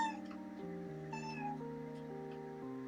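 A cat meows and cries in a drawn-out, wavering wail that shifts pitch several times, fairly close and clear with no talk.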